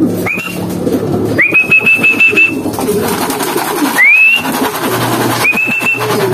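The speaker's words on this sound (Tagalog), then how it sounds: "Papasok na iba nating ibon." Racing pigeons being fed before a sprint race the next day coo in a loft, with several rising whistled calls standing out clearly over a constant low hum and scattered soft rustling.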